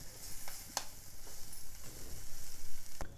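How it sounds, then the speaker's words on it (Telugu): Chopped fenugreek leaves frying in a pan, a close, steady sizzle broken by a few sharp clicks of a spatula against the pan. "మెంతికూర బాగా వేగనివ్వాలి, లేదంటే మనకు చేదు వస్తుంది."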